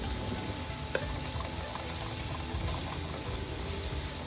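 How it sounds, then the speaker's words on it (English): Small to medium shrimp frying in a pan for a shrimp sausage fried rice, giving a steady, dense sizzle throughout with one brief click or tap near the start and no talking. "cooking the shrimp will be very quick because I am using like small to medium shrimp size"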